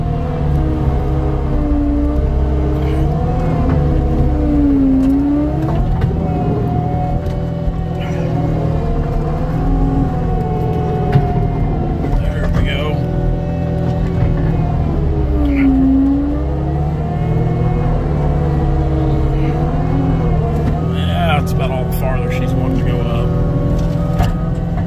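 Skid steer engine revving steadily in snow, a loud continuous rumble with rising and falling pitch swells as the machine works a hill.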